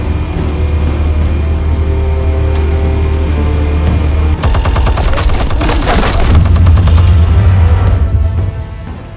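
Sustained bursts of automatic gunfire in Batman: The Telltale Series rattle loudly over a low engine-like rumble, then the firing stops.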